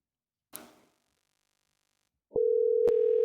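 A telephone call tone sounds after a short click, then a steady continuous electronic tone holds to the end, clear and fairly loud through a speaker.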